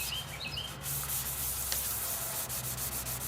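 A car headlight lens with surface checking is sanded by hand in steady, close, continuous rubbing strokes, with faint bird chirps in the background.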